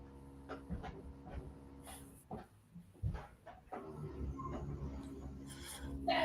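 A puppy moving about at close range, with scattered panting, soft whimpers and scuffling bursts through a continuous low room hum, and no clear barks.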